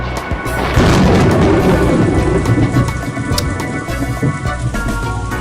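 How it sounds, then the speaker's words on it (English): Heavy rain pours steadily in the visual novel game Umineko, with a deep thunder rumble swelling early and then fading under the constant downpour. "Ooh, moving rain."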